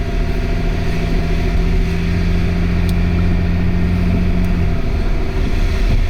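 A Range Rover L322 with 132,000 miles on it pulls away slowly while its engine warms up, giving a steady, loud low drone that holds evenly throughout and shifts slightly near the end.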